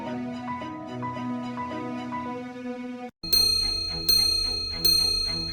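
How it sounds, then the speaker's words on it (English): A Patek Philippe chiming wristwatch with a micro-rotor movement plays one steady tone, then after a brief gap rings three loud, bright metallic strikes at an even pace, each fading slowly before the next. "Let's listen to that chime."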